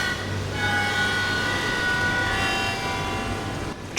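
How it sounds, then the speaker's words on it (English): A train running along rail track in the video game G String, a steady rumbling roll with sustained metallic tonal whine layered on top, loud and continuous throughout with no speech. "Trains are so fucking cool."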